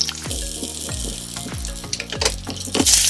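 Boiled potatoes hitting a hot pan in sabudana khichdi, a series of repeated drops and splashes with crackling sizzle, growing louder toward the end, no voices present.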